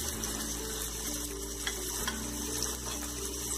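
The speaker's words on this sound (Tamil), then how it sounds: "வெங்காயம் வதங்கினதுக்கு அப்புறம் நம்ம எடுத்து வச்சிருக்க தக்காளியும் இஞ்சி பூண்டு பேஸ்டையும் சேர்த்துடணும்." Onions, tomatoes and ginger garlic paste fry in a pan with a steady, close sizzle and occasional stirring clinks. The cooking noise is continuous and alone, with no talk.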